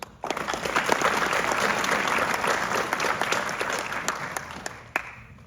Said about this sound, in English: Please join me in a round of applause for the awardees and honor graduates.